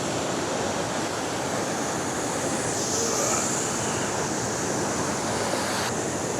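A waterfall in the Otways pours down in a steady, broad rush of falling water that stays constant and fairly close throughout.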